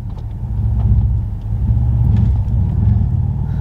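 A Mercedes CLS 63 AMG engine being given throttle during a drift, a deep, loud, close rumble that swells and holds steady for a few seconds with no talk over it.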